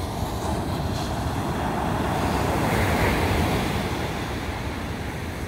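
Ocean waves rolling in with a steady, broad wash of surf, swelling slightly midway, with some wind noise over the microphone.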